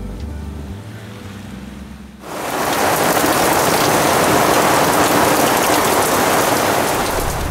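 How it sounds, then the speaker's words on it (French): A faint low rumble gives way after about two seconds to loud, steady morning rain close by, a dense even hiss of drops on surfaces that carries on to the end. "Par contre, il pleut ce matin."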